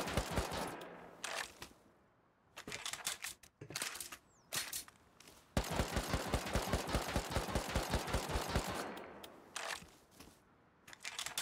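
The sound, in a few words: gunfire in the video game Rust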